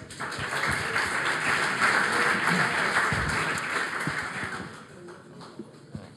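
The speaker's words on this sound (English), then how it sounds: "Another big round of applause, please." Audience applause at a startup pitch event, a steady wash of clapping that swells in the middle and tapers off, with a few scattered claps and faint murmurs at the end.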